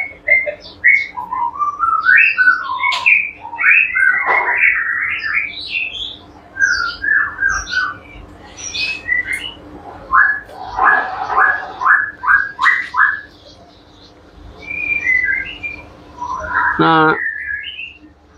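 Songbirds whistling and chirping in bright, varied phrases, near and clear, with short pauses between bursts and a brief word spoken over them.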